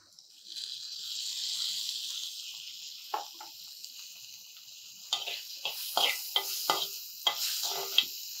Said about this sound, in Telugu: దీంట్లోనే ఇప్పుడు కొంచెం టమాటో ముక్కలు వేసుకోండి.